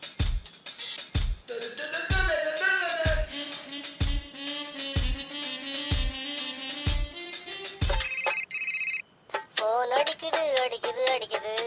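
A phone ringtone plays a loud, repeating melodic pattern of evenly spaced notes for about eight seconds, after which a different bright electronic tone and beeps take over.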